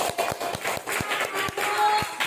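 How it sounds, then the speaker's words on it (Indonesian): Pupils in a classroom clap for a group that has just presented its discussion results, a quick run of close, rhythmic hand claps with talking mixed in. "tepuk tangan untuk kelompoknya Fatir"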